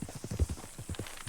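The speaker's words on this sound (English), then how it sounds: "Oh, it's a horse." Horse hooves clip-clop in a quick, uneven rhythm, close and fairly soft, for about a second.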